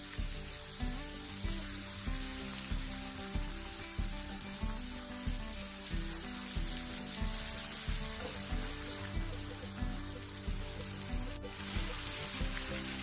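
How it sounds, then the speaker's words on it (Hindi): Masala with green tomatoes fries in a pan, a steady close sizzle with bubbling crackle running the whole time, no voices over it. "टमाटर डालकर इन्हें 5 मिनट के लिए अच्छी तरह भूनना है।"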